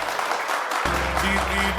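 Loud, steady applause and clapping from a studio audience at an Odia reality show, filling the whole clip with dense noise, with music swelling underneath partway through.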